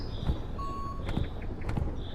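Backup alarm of a reversing truck in the Truck Simulator US driving game, a steady tonal beep repeating at a regular pace over a low engine rumble, moderately loud with no talking.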